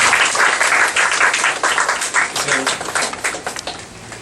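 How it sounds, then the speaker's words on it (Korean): A church congregation at a prayer meeting breaks into sustained, dense applause, many hands clapping continuously and loudly before thinning slightly toward the end. "다시 한번 박수 한번 격려해"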